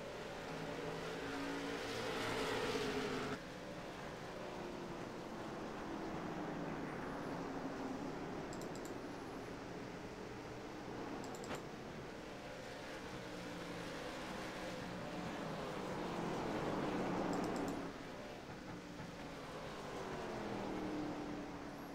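Late model race cars lap Stafford Motor Speedway, their engines a steady distant roar that swells as packs pass and fades between them, continuing throughout.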